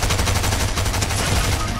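Rapid automatic gunfire in an online shooter game, a dense steady burst of shots aimed at the player, loud and close with no talk over it.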